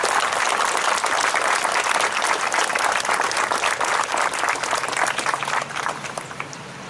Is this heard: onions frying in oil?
no